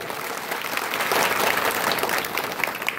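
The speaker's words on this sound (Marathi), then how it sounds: "दुसरी टाळी होऊ द्या मृदंगाचार्यांसाठी." An audience claps for a mridang player, with dense, steady applause that swells in the middle and holds for about three seconds.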